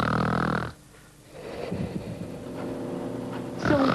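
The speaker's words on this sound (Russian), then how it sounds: "Пациент громко храпит?" A patient snoring loudly in a hospital sleep lab: a raspy snore, a brief quiet breath, then a longer rattling snore, close and with no talk.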